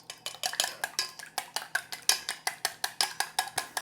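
Eggs beaten with a fork or whisk in a bowl for a French omelette, a steady rapid train of sharp clinking strokes against the bowl, close and evenly rhythmic, with no talking.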